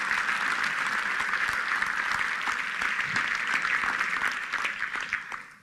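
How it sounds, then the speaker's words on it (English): A conference audience at a fitness industry breakfast presentation claps for the Myzone staff, dense steady applause that holds for several seconds and then tapers off. "if I could give them, the staff, a round of applause"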